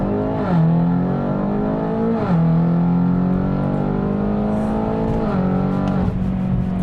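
A 2016 BMW X5M with a 567 hp engine accelerates hard from a stop. Its loud engine note climbs through several rising sweeps, with a quick drop at each gearshift, and the sound is heard from inside the cabin.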